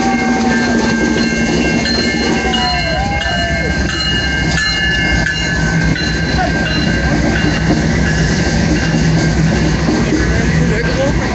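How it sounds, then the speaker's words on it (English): A train rumbles past close by with continuous clattering wheels and squealing tones, loud and steady throughout, with faint voices mixed in. "wait for the train to pass or to keep walking"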